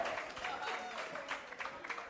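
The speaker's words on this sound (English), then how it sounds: "ladies and gentlemen, let's give both ladies a round of applause" An audience at an opera house fundraiser in St. Louis claps for two women, a soft, scattered patter of many hands with a few sharper claps, while voices carry faintly underneath.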